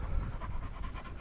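A dog panting quickly and softly in a steady rhythm while out on a walk, close by but faint, with no talking.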